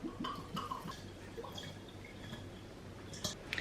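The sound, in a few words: pouring vodka over blackberries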